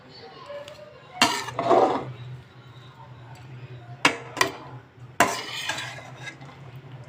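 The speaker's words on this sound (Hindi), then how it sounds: "अभी सब्ज़ी हमारी फ्राई हो रही है।" Vegetables for spring rolls stir-fry over a high flame in a pan, with a low steady sizzle under sharp metal clanks of a spoon against the pan in a few bursts, and a voice speaking between them.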